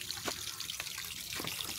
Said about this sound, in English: you can just sit here and listen to the pond, listen to the water running.